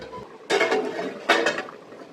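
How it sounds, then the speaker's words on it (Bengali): A metal lid is lifted off a pot of boiling potatoes on a home stove, making two close clattering clinks about a second apart over a low background hiss. "আমি ঢাকাটা উঠিয়ে দিলাম"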